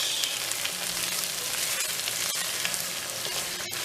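Goose livers, mushrooms, scallions, onions and shallots fry in a pan with a steady close sizzle and hiss, punctuated by a couple of sharp utensil scrapes and knocks as the mixture is stirred.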